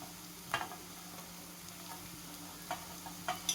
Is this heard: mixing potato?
yes